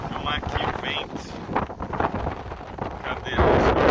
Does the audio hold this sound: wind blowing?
yes